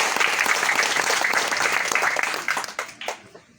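A crowd applauds, dense clapping that holds steady, then thins out and fades to a few scattered claps.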